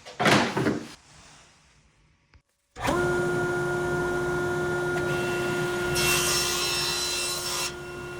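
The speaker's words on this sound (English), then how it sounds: "I'm gonna start by sanding it" A brief scraping rub of scrap wood, then a steady mechanical whine of a power sander running continuously, alone with no talk.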